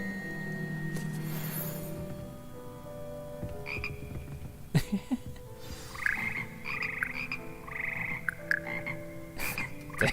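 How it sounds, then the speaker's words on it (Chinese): A chorus of frogs croaks in the Hogwarts Legacy video game, layered throaty calls in repeating bursts alongside tonal musical notes, with occasional sharp clicks and no speech. "这还有青蛙声。"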